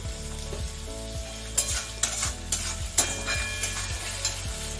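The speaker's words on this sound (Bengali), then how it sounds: "এবার এটা আমি একটু গাজরটা দিয়ে দিলাম। গাজর ভাজতে খুব বেশি দেরি লাগবে না" Carrots frying in a pan for a poha breakfast, with a steady close sizzle and several sharp scraping stirs at a regular pace, no voices.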